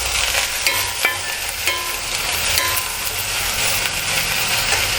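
Finger-cut potatoes are stirred into a chicken stew in a pan, steady close scraping and bubbling sizzle with a few sharper clinks of the spoon against the pan.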